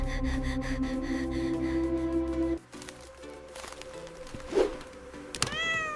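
A cat meows in a tense scene, a short high cry rising and falling late in the clip after a stretch of steady droning noise, fairly close and clear.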